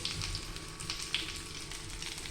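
Mackerel frying in a pan, a steady dense sizzle and crackle holding at an even level throughout, close up, with no voices.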